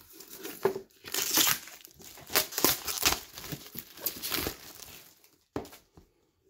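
Cardboard package box being opened up close, with a steady run of crinkling, tearing and rustling bursts that fade near the end.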